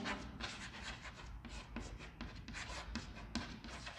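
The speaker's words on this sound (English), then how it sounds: "I'm writing here." Pen or marker writing on a board during a school class lesson, a steady scratchy rubbing with short strokes and brief pauses, close and moderately quiet, with no talking.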